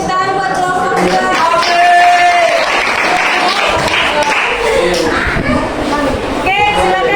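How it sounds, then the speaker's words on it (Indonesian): A classroom audience applauds a student group in a biology lesson, loud dense clapping sustained for several seconds, with voices talking over it at times. "tepuk tangan buat kelompok 2"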